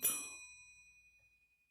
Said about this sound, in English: I thought I heard a reply bell somewhere else in the house.